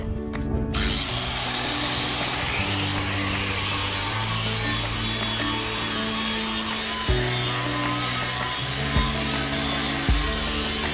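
Abrasive power tool grinding and scrubbing rust from a large metal pipe, a loud continuous whine with steady droning tones that shift pitch as the load changes and brief knocks near the end.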